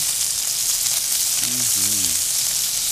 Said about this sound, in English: So we just want to give it a good sear on both sides.